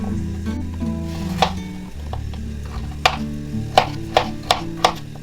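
Knife cutting bell peppers, yellow and red, into large chunks on a board for shurpa, several sharp chops spaced irregularly against a steady low background hum.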